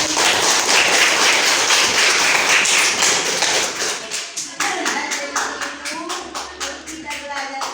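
Students clap together in a classroom, first in a loud, dense burst, then thinning into a rhythmic series of distinct, evenly spaced claps as voices murmur faintly underneath.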